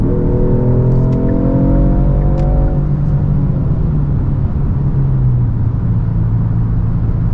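A Genesis G70 3.3T facelift accelerates hard in sport mode with enhanced engine sound generation, a loud rising engine note climbing steadily before easing into a lower steady drone.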